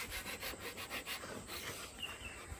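Wood being sawn by hand ahead of a village Ganesh festival, a quiet back-and-forth rasping stroke repeated in a quick steady rhythm, faint and without voices.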